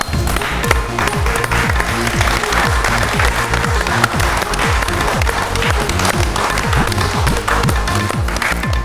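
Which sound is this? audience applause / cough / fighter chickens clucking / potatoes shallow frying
audience applause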